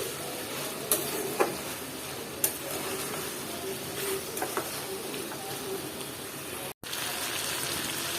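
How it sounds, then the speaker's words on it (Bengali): Vegetables with pumpkin cook in a pan with a soft steady sizzle and hiss, broken by a few light clicks and taps of stirring, quiet and close with no voices. "কুমড়াটা দিয়ে আমিও আবার এই সবজিটা আবারও নেড়ে চেড়ে দিচ্ছি"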